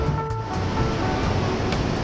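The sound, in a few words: ocean waves on the beach at Itacarezinho, Bahia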